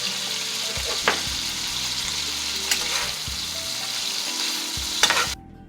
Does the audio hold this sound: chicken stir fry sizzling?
yes